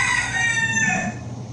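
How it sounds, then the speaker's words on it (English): A feral rooster crows loudly and close in a quiet residential neighborhood of Honolulu, one long drawn-out call fading near the end, with no voices. "feeding feral chickens has become a problem, especially as you can hear when they are crowing"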